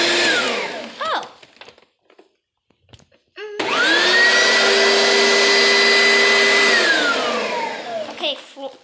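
An Orec XL Classic vacuum cleaner starts with a loud whine after a short pause and runs steadily near the microphone, then the motor pitch falls as it powers down; brief talking and handling noises come before and after.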